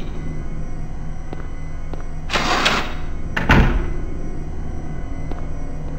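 A locked door being tried in the Silent Hill video game hospital, two short rattling thumps of the handle and frame in quick succession over a quiet humming background.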